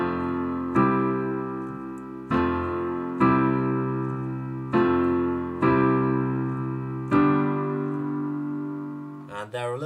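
Piano chords, with octaves in the left hand, struck in a steady sequence of about six resonant, decaying chords, close and moderately loud, with a brief rustle at the very end.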